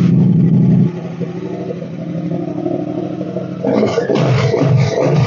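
A Triumph Bobber motorcycle idles with a low, close rumble, then the engine note lifts and turns rougher and clattery.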